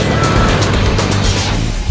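A Ford F-250 with a 7.3 litre turbo V8 diesel drives through Australian scrub, its engine a loud, steady low rumble with continuous road and wind noise throughout.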